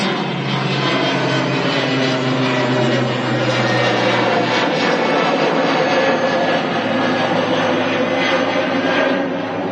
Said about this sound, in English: ATR rotating off to Dublin.